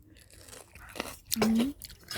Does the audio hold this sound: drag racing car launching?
no